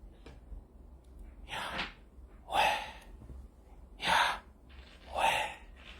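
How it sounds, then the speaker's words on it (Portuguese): A person breathes in and out in four distinct, forceful breaths spaced about a second apart, close and clear against a quiet background with no speech. "O som natural da respiração do homem é o nome de Deus"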